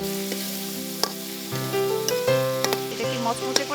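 Prawns with salt, dried chili and turmeric powder are stirred in a hot pan, a strong sizzle broken by repeated scraping strokes and sharp metallic clicks of the spatula.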